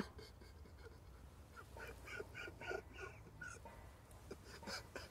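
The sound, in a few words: duck quacking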